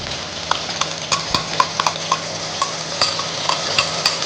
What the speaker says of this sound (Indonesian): Kita tumis di sini